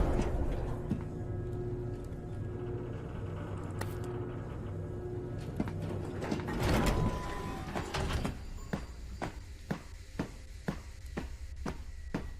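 An elevator in SCP: Containment Breach descends with a low mechanical rumble and whir, followed by a clunk as it settles, then a string of regular, evenly spaced metallic ticks or clacks.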